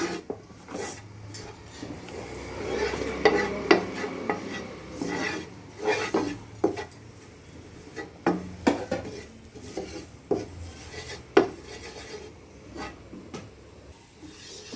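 Maida flour frying in melted butter in a pan for white sauce, giving a soft low sizzle under repeated stirring and scraping of a spoon against the pan, with occasional light clinks.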